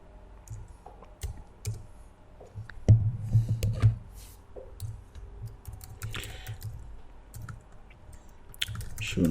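Keys clatter on a computer keyboard in short irregular bursts of clicks, fairly close and quiet, with pauses between runs of typing.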